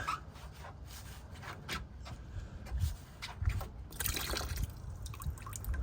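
Leftover coolant trickles and drips from a removed radiator hose on a Toyota Tundra, a continuous soft watery dribble with irregular splashes, close and fairly quiet.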